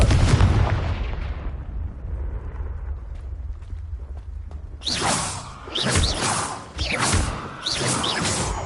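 A Confringo fire blast spell from Hogwarts Legacy bursts with a loud whooshing boom, then a rumbling fiery tail fades into a quieter stretch before a string of sharp crackling impacts follows.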